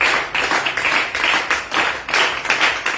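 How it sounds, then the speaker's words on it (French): A church congregation claps in rhythmic acclamation after a scripture reading, steady repeated handclaps at a brisk beat filling the room, with no one talking over them. "On acclame la parole du Seigneur."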